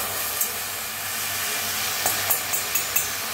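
Moth beans dry-roasting in a hot kadhai give a soft, steady sizzling hiss with a few sharp scrape and clink accents from stirring, at moderate volume and without talk.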